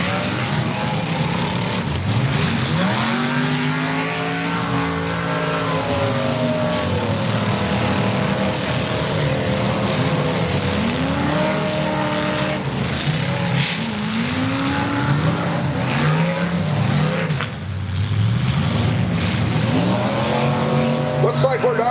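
Demolition derby cars revving in an arena, several engines rising and falling in overlapping loud roars, with announcer-style talk faintly under the din.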